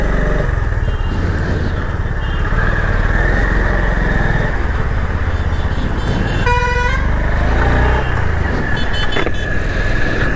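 A 2024 Honda CB350 motorcycle on the move, with a steady engine and road roar running throughout, loud and close, and a car horn honking briefly partway through.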